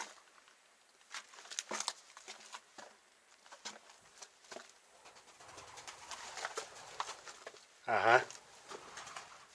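Pigeons flutter out of a nest hole in Northern Cyprus, heard as scattered wing flaps and soft pattering with a burst of louder flapping near the end, while people talk quietly nearby.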